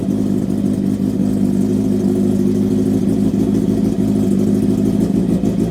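Kawasaki Z650 or Honda CB650R motorcycle with an aftermarket exhaust, a loud steady rumble held close at idle throughout, with no talk.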